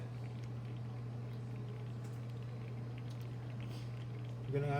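Jamaican cornmeal porridge simmers in a pot after about twenty minutes of boiling, giving a soft, steady bubbling patter over a constant low hum, faint and close throughout.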